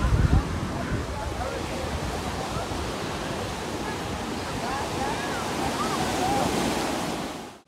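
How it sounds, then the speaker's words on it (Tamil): Sea waves wash in steadily at Marina Beach in Chennai, a loud, constant roar of surf mixed with heavy wind buffeting the microphone, with faint voices in the background. "அந்த சீயில் வர அந்த அலையோட சவுண்டு இருக்குது பாருங்களேன், அது கேட்குற ஃபீல் செம்மையாக இருக்கும்."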